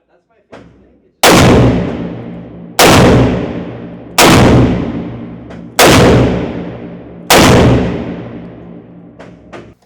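Five heavy booming shots from a Smith & Wesson 500 Magnum revolver with a 4-inch barrel firing jacketed hollow-point rounds, each a sharp, very loud close blast with a long decaying echo, spaced roughly a second and a half apart.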